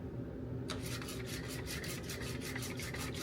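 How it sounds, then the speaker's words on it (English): A whisk beats ingredients for shrimp fried rice in a home kitchen, a fast steady scraping rhythm that starts abruptly after a moment of quiet and keeps going, close and fairly soft. "My nifty whizzy whisk."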